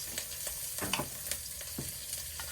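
Chicken pieces fry in a pot while being sautéed for a Bengali country chicken curry, a faint continuous sizzle with scattered scrapes of a spatula against the metal and no speech.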